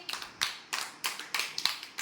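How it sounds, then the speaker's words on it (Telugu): Children in an anganwadi class clap together in a few distinct rhythmic bursts of quick claps, fairly close and moderately loud, with short pauses between them. "క్లాప్స్ కొట్టండి అందరూ"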